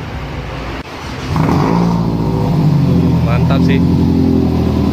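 A Toyota Vios 2014 with a 1NZ-FE engine and freshly fitted racing camshaft revs up from idle into a sustained loud, steady roar, close by, with someone speaking briefly over it.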